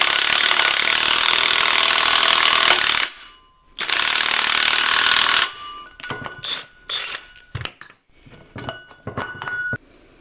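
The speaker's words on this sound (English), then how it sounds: "So it kind of destroyed that bearing cup, but that's okay. It was still enough to squeeze it out around there." A press forces a U-joint bearing cup out of a Chevy S10 drive shaft yoke, first as two long, loud grinding bursts, then as a run of sharp metallic clinks and creaks, with no talking.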